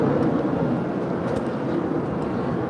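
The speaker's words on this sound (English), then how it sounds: "Finnair A350 heading back to Stockholm, now pushing back from the gates of Tom Bradley" A Finnair Airbus A350 jet pushing back from a gate at LAX's Tom Bradley terminal gives off a steady, broad whine and roar of idling engines, continuous and fairly loud, with no talk over it.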